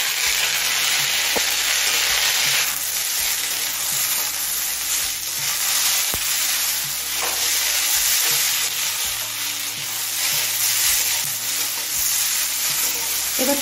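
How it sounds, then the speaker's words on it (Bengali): A large chopped tomato fries in a pan with onions and spices, giving a loud, continuous sizzle broken by repeated scraping stirs of a spatula. "এবার টমেটো নরম হয়ে আসা পর্যন্ত ভেজে নেব।"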